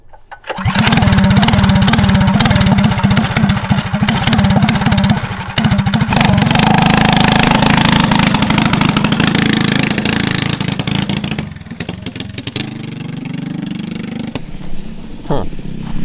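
Wildcat 223cc stage 1+ minibike engine with a straight pipe, still cold, runs loud and close for most of the stretch with a steady rough mid-pitched drone, then eases to a lower uneven idle near the end.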